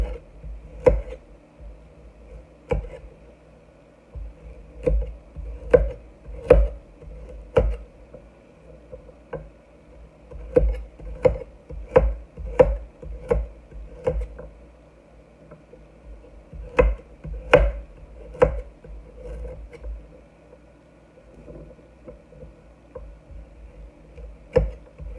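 Knife chopping carrots at an angle on a cutting board, while making pickled peppers with carrots, garlic and parsley: sharp irregular knocks in quick bursts and pauses, close and fairly loud, with no talk.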